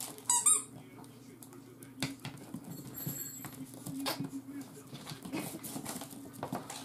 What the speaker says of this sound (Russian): весь этот столбик это пищит